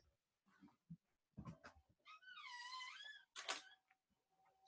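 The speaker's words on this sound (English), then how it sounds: "Little kitty disruptions." An indoor house cat gives one long, drawn-out meow, close by. Clicks, rustling and handling noises come before and after it.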